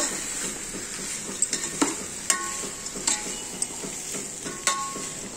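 Koi fish and raw banana cooking in a rice cooker give off a constant high hiss, with scattered light clinks and scrapes as a spoon stirs the pot, up close and without voices.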